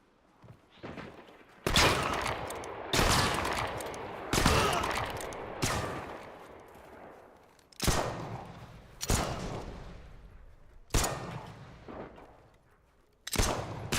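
Revolver shots in an online pirate video game ring out as a rapid run of loud, sharp bursts, about a dozen over the span, each with a decaying tail and some overlapping in chaotic gunfire.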